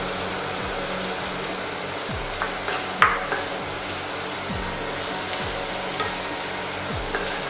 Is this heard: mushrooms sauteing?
yes